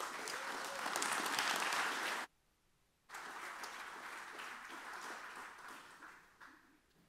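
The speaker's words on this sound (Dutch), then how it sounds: "een groot applaus voor professor Alex de Rijken." Audience applause at an architecture lecture on wood construction, full sustained clapping that swells, breaks off briefly into near silence, then resumes and gradually thins.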